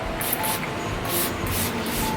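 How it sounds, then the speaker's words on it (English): A makeup setting spray gets several short bursts of fine mist over a finished face, close and hissing, with brief pauses between the sprays. "Then I'll give everything one last spray."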